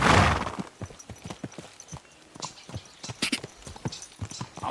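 Rapid horse hoofbeats in the video game Kingdom Come: Deliverance II clip-clop in a steady galloping rhythm, loud and close, after an initial burst of noise.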